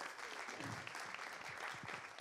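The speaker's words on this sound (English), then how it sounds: "Let's give a round of applause to our returners as well." Audience applause fills a storytelling slam venue, a dense, steady wash of many hands clapping at moderate volume throughout, with faint voices mixed in underneath.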